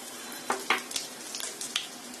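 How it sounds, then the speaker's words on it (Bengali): A teaspoon of chopped garlic sizzles in hot ghee for tomato soup. A soft, steady frying hiss runs throughout, with a few sharper crackles and light stirring sounds close by. "ঘিটা গরম হয়ে গেছে। এখন দিয়ে দিচ্ছি 1 চা চামচ রসুন কুচি"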